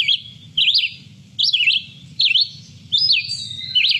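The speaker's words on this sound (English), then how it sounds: "And the last one is the red-eyed Vireo." Red-eyed vireo song: short, high whistled phrases repeated about every second with pauses between, clear and fairly close over a low background murmur.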